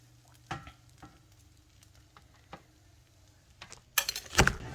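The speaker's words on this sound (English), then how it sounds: "I'm just going to get this tortillas in warm oil, get them pliable so they will bend without breaking" Corn tortillas softening in warm oil in a pan for enchiladas, with a quiet steady sizzle broken by soft clinks and stirring sounds, rising to a louder burst of crackling frying near the end.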